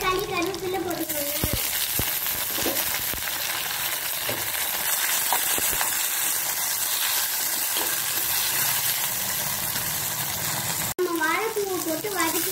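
Green chillies, tomato and curry leaves added to frying onions give a loud, continuous close sizzle with stirring scrapes, a brief voice at the start and end.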